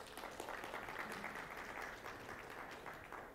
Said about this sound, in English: Every woman, I think, just applauded.